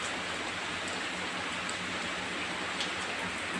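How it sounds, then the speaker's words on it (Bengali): Steady monsoon rain falls evenly and densely, a continuous close hiss of drops on surfaces with no voices. "বৃষ্টি পড়েছে মানে খুব ভালো লাগছে"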